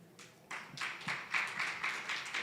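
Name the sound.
clapping for the speaker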